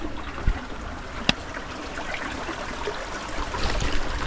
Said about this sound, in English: Just coming across this creek.